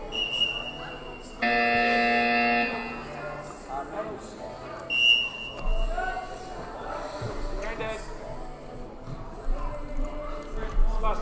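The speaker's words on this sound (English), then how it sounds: "Buzzer." A buzzer sounds once at a wheelchair rugby match, a loud steady tone lasting just over a second, followed by commentary, court noise and scattered squeaks and thumps.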